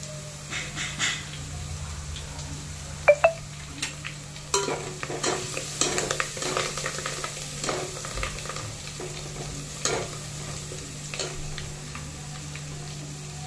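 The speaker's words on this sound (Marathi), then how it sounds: "त्यानंतर कढीपत्ता टाकायचा." Curry leaves drop into hot oil while making misal pav, with a low sizzle dotted with sharp crackles and pops and steady spoon-stirring scrapes close by, without speech.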